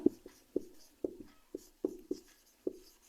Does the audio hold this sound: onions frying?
no